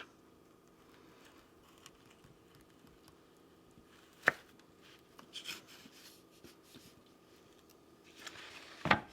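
A knife slices through rich homemade cherry mash candy cut into small, long, square pieces. The room is quiet, with a few soft, brief cuts, one crisp near the middle and a louder scrape at the end.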